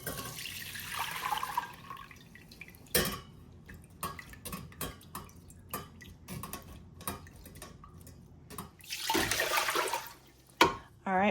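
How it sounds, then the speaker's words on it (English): Water from violet flowers soaked for a day is strained in a kitchen. Pouring and splashing surge near the start and end, with clinks of dishes and scattered taps between, and no speech. "We're gonna go ahead and strain all of the flowers from the water."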